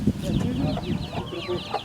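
Chickens cluck and chatter softly in the background in a war-damaged village, a steady, busy flock murmur with a few higher calls, nobody speaking.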